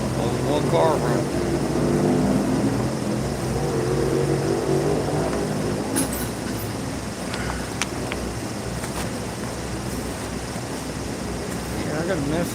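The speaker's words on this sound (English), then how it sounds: "Only one car running." A single race car engine running on the track at Talladega, a distant droning roar that carries steadily beneath nearby talk and wind, with faint intermittent clicks and knocks close by.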